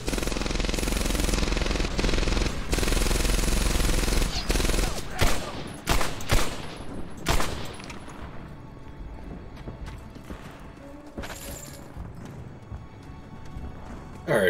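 Gunfire in a 2007 video game: dense, loud bursts of rapid shots for the first several seconds, then sparser, quieter scattered shots, with a final loud burst at the very end.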